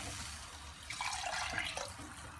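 Water poured into a pan of spicy Kerala-style Malabar prawn curry, with tamarind squeezed in, making a steady splashing pour that builds midway and keeps running under no talk.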